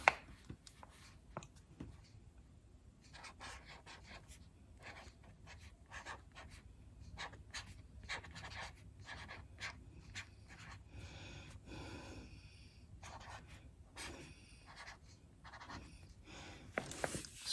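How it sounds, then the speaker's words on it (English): Marker tip scratching and squeaking across plastic freezer bags in short bursts of strokes, close and moderately quiet, with no talking. "so you can see how easy they are to write on the bags"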